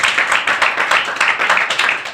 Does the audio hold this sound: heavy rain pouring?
no